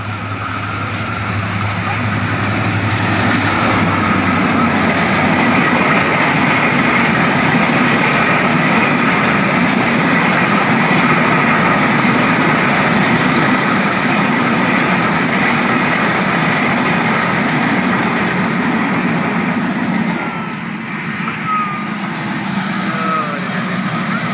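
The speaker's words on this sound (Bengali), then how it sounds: "এই যে ট্রেন এসে" A train rushing past close by at a station without stopping, a loud continuous rumbling roar with rattling wheels that holds for the whole stretch and eases slightly near the end.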